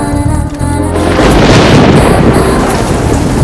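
Heavy rain pours steadily while low rumbling booms roll underneath, loud and continuous throughout.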